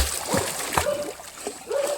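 Canal water splashes in short, uneven bursts as a child and father bathe, with faint voices mixed into the watery noise.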